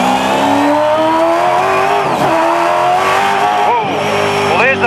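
A 650-horsepower race car engine starts and revs hard, loud and close, its pitch climbing and dropping in repeated surges of throttle.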